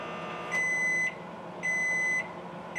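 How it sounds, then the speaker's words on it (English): A microwave sounds three evenly spaced electronic beeps, each a sustained high tone about half a second long, clear over a quiet hum. "put it in the microwave"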